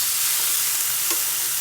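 Sponge gourd and tomato sizzle loudly in a pan over low heat, a dense continuous frying hiss with a faint scrape of stirring.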